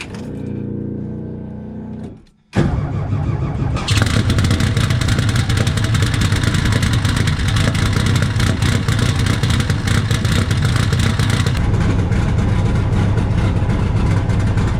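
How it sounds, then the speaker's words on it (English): Car fitted with CB Performance square port heads cranking briefly, then firing up and revving loudly close by, settling into a strong, steady, rough-edged idle and rev with no talk. "I've never been able to reach in and just hit the key and have it fire right up"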